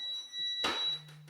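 A faint, steady high-pitched electronic tone from a security alarm system hums in a quiet room, interrupted by a short thump, then a low buzzing drone.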